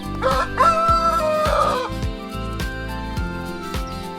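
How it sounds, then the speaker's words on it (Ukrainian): A rooster crows and chickens cluck over bouncy background music, repeated bird calls near and lively, with no talking. "Курочки весело куткудакали, знаходячи зернятка у сіні."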